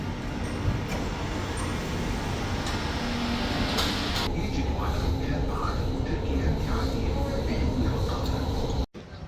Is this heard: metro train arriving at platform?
yes